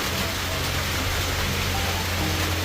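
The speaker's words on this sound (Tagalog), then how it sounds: "Palakas ng palakas yung ulan guys ah." Heavy rain pours steadily and densely as a loud, continuous hiss of drops on surfaces, building in strength with no break.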